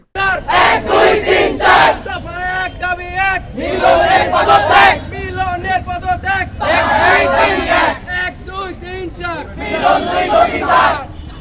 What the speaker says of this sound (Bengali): এ সময় তারা শিক্ষামন্ত্রীর বিরুদ্ধে নানা স্লোগান দিয়ে পদত্যাগের দাবি তোলেন।